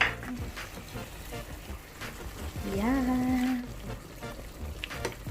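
Mushrooms and tuna fry in a pan over low heat with a steady soft sizzle, while a brief voice and a rising tonal squeak cut in midway.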